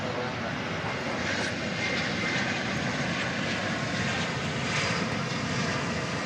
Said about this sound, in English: Here comes American Airlines Flight 2880 from Sioux Falls. This is an Airbus A319.